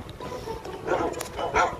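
Dog barking in a video game, a few short yips and barks in quick succession, moderately loud amid game sounds with faint talk nearby.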